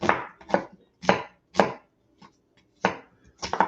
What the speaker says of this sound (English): I'm going to just chop this little onion up roughly